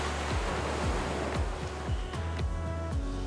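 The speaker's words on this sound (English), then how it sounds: "Look at those waves, they are just so beautiful." Ocean surf breaking on a white-sand beach in Barbados, a steady loud wash of waves with repeated crashes rolling in every half second or so, close by with no voices.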